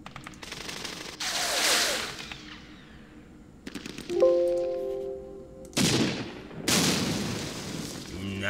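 Gunfire in the wargame Campaign Series Middle East, set in the Second Arab-Israeli War at the Rafa crossing: bursts of sharp shots and rattling volleys separated by pauses, with a brief tonal game effect between them.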